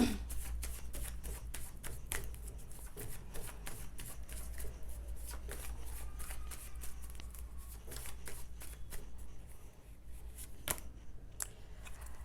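Tarot cards shuffled continuously for a clarifier draw, a steady dense riffle of soft flicking and slapping card edges close up, with a few sharper snaps near the end and no talking.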